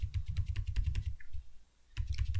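Computer keyboard typing while setting up an Excel pivot table: rapid, close key clicks in two bursts separated by a brief pause, crisp and fairly loud with no voice over them.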